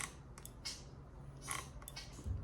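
Squeaky clutch lever on a Ducati Scrambler motorcycle being worked by hand, giving a few short, faint creaks at irregular intervals, close by and with no talking.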